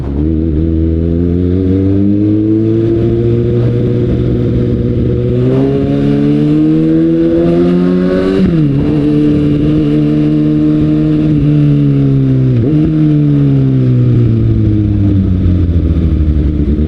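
A car's engine pulls hard through the gears, a loud, close, steady drone that climbs in pitch, drops sharply at each smooth shift and climbs again several times.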